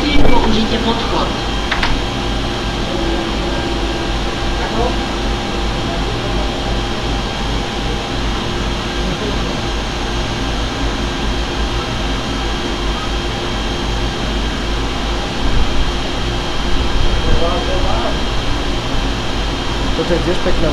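A locomotive stands at Púchov railway station, a loud, steady mechanical hum and drone with a constant tonal whine, swelling slightly near the end; people talk nearby throughout.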